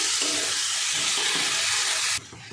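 Masala with fried potato and soybean sizzles in a pan, a steady loud hiss that runs on and then drops abruptly quieter.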